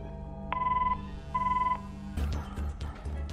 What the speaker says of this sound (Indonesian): tiba-tiba telepon kembali berbunyi